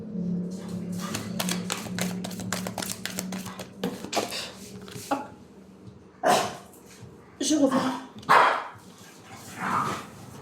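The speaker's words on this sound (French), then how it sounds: "Mes petits chiens, ils me perturbent." Small dogs bark and yip in repeated sharp bursts indoors, loudest in the latter half, mixed with someone speaking French and some clattering background noise.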